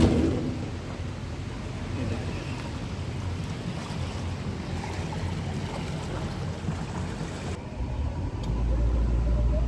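A houseboat's engine drones steadily as the boat pulls away on the Alleppey backwaters in Kerala, a continuous close rumble mixed with wind and water noise throughout.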